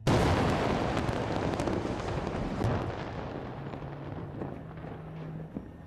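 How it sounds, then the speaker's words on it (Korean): A loud blast as North Korea demolishes the inter-Korean joint liaison office building, a broad roaring boom that starts at full strength and slowly rumbles and decays over several seconds, with a faint low hum underneath. "요란한 폭음과 함께 북남 공동연락사무소가 비참하게 파괴됐습니다."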